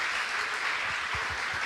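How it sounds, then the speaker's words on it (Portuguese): A church congregation claps together in a dense, steady round of applause, loud and continuous for a short stretch with no talking. "Uma salva de palmas para Jesus"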